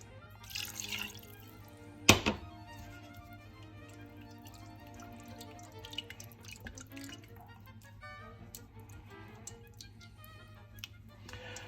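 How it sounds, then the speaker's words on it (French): Gravy made with chicken stock is poured from a pan, a faint trickle and drip with one sharp clink of cookware early on. "Voilà, vous versez le reste."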